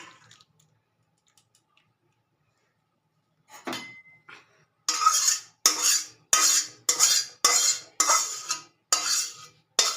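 Pabda fish curry is ladled into a serving pot in a series of regular close scoops and splashes, each a short wet clink against the vessel, following a few quieter scrapes after near silence.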